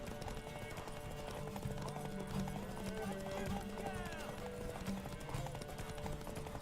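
Rapid rhythmic hoofbeats of a galloping horse in The Witcher 3: Wild Hunt clatter continuously at low volume, with a faint whinny and background tones.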